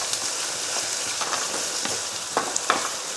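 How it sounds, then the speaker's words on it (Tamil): Onions and green chillies sauté in a hot pan, a continuous oily sizzle broken by a few sharp crackles and scrapes of stirring, close and clear with no speech. "10 அளவுக்கு பச்சை மிளகாய் சேர்த்துருக்கேன், 3 பெரிய வெங்காயம் சேர்த்துருக்கேன். இப்போ இதை நல்லா வதக்கிடுவோம்."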